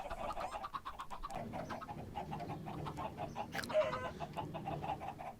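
Chickens in the video game Minecraft cluck continuously in a dense, rapid stream of short pulses, as if a large flock is packed close together, with no talk over them.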